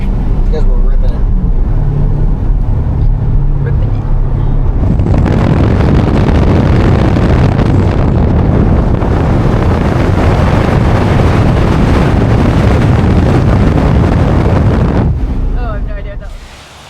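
A Chevrolet Corvette C8 is driven hard, its engine roar surging in loud and holding strong for about ten seconds amid heavy wind rush before dropping away.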